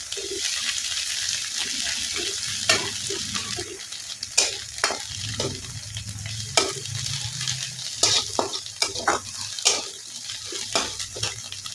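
Coriander roasting in a pan with garlic and coconut for an egg curry, a steady dry sizzle broken by repeated scraping stirs and sharp clicks of a spatula against the pan, close and alone.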